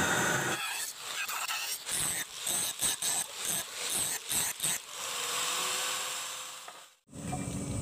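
A coarse grinder flattens a steel knife blade being made to a 20 cm length. The harsh, loud grinding comes in pulsing bursts as the tool bites and lifts, then settles into a steady drone after a brief drop.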